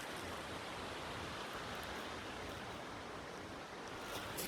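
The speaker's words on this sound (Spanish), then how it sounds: "estoy escuchando el salto de la cascada, estoy escuchando el arroyo" The Nocedo waterfall and its stream, a constant broadband rushing of falling and flowing water heard steadily throughout without any voices.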